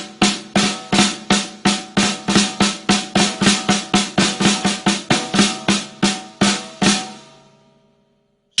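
A drum plays the patty fla-fla rudiment, two flams and two strokes, in a steady run of about twenty crisp, loud hits that stops abruptly and leaves a short ringing decay.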